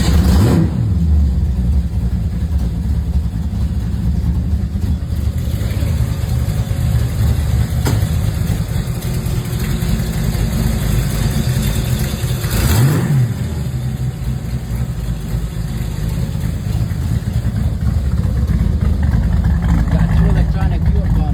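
A kit car engine starts and settles into a loud, rumbling idle, broken by several sharp blips of revving, heard close up the whole time with possible voices faint underneath.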